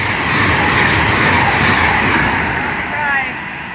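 A train roars through Nuneaton station close by, a loud, sustained rumble with metallic rail screech and rising and falling wheel noise for several seconds.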